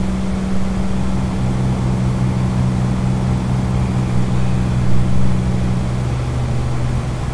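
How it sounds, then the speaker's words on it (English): A truck engine drones steadily in American Truck Simulator, a loud, constant low hum with no change in pace, heard alone without any voices. "Hope the engine noise isn't too loud"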